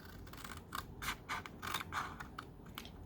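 Scissors snip through paper card while cutting flaps for a stamped Easter treat bag, giving a run of short, crisp cuts close by and fairly quiet, with no talking.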